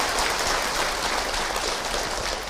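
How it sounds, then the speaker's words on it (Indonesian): Audience in a religious gathering applauding for a woman who asked a question, a dense, steady wash of clapping from many hands throughout with no voices standing out. "Tepuk tangan buat Bunda yang bertanya."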